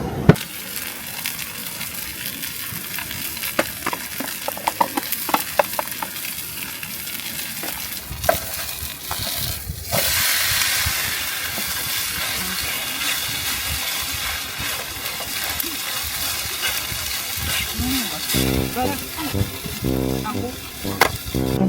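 Korean jeon pancake frying in plenty of oil on a camp stove at a forest campground, a continuous crackling sizzle with scattered pops and a louder surge midway as the pancake is flipped.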